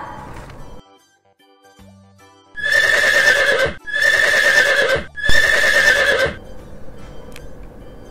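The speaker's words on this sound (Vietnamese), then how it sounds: "Đây chính là con ngựa. Horse." A horse neighs three times in a row, each whinny loud, close and drawn out with short pauses between, after a brief quiet opening.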